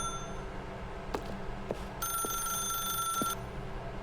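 An electronic telephone rings in The Stanley Parable, a steady trilling ring lasting about a second and a half over a low background hum, with faint clicks before it and no talk.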